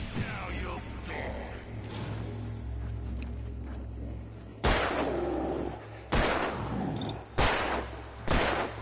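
Gunfire in Alan Wake: after a low rumbling ambience, four loud sharp shots ring out at roughly one-to-two-second intervals, each with a short decaying tail.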